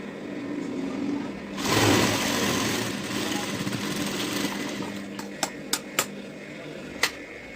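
A sewing machine stitches down the hem of a size-40 bra-cut blouse, its motor giving a steady, moderately close whir that swells briefly early on, with a few sharp mechanical clicks near the end.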